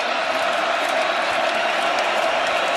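A TCU home stadium crowd roars after a sack in a college football game, a steady wide wash of cheering and noise that holds at full volume throughout without a break.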